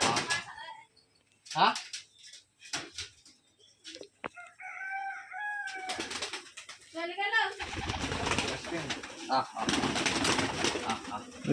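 Pigeons coo on a pigeon farm in Rajshahi, with soft cooing and wing sounds amid a rooster crowing partway through, while someone talks intermittently nearby.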